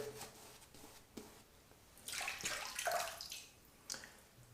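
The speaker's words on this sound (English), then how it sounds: "All right, we're going to add a touch of water there." Quiet trickling and splashing of water poured in small amounts onto Siliski Soaps Rosemary/Cedarwood shaving soap, a short wet burst in the middle, faint and close with soft squishy handling sounds.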